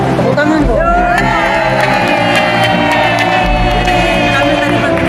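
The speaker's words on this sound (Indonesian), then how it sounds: "Tepuk tangan, Bu." A crowd cheers, whoops and shouts loudly at a community civic-outreach gathering in West Java, with sustained noisy enthusiasm and a musical or amplified tone underneath throughout.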